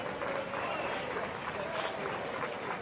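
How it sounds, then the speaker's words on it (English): Caernarfon Town football fans behind the goal applauding and cheering after a goal in a Welsh Cup semi-final against Rhyl 1879, a dense steady wash of crowd clapping throughout. "you get the applause of the Caernarfon fans, particularly behind the goal"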